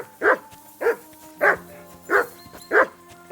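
Dog in the video game Kingdom Come: Deliverance 2 barking five times at a steady, regular pace, close and loud over a faint background drone.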